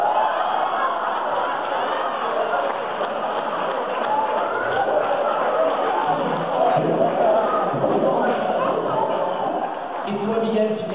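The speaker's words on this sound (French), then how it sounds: "on applaudit bien fort le magicien" A crowd at a comedy and ventriloquism show applauds and cheers a magician's trick, a steady dense wash of clapping and voices lasting the whole time.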